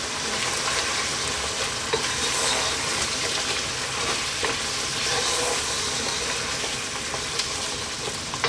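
Ground chili, turmeric, coriander and cumin frying in a pan for mutton biryani, giving a steady, dense sizzle with light stirring scrapes throughout, close and fairly loud with no talk.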